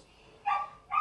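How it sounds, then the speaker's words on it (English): Two short barks from a pet dog, the second cut off at the end, fairly close and sharp against a quiet room background. "I don't like my dog. She barks too much."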